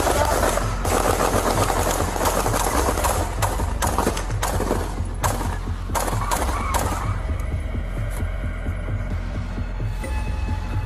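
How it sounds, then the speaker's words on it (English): A man fires an AK-47 rifle at police officers during an ambush. Loud, close bursts of rapid gunfire crackle over a constant low rumble for about seven seconds, then thin out into scattered quieter noise. "Central, we got a man with an AK-47. He's shooting at us."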